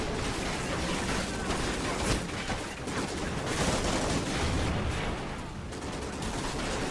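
Rifle fire in Call of Duty: Ghosts, loud and continuous, with dense overlapping bursts and booms filling the whole stretch and almost no gaps between shots.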